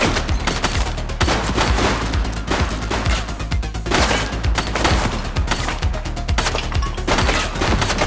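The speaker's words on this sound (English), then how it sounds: "He's shooting!" Gunfire in the police video game The Precinct: a dense, continuous fusillade of rapid shots and bursts, loud and close, with no talk over it.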